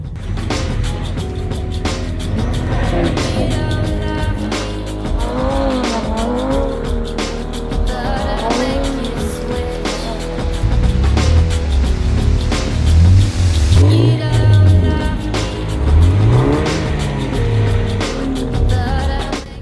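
A BMW E30 drifting on winter snow, its engine revving hard in rising and falling sweeps with tire squeal, loud and near, the revs climbing and dropping repeatedly as the car slides.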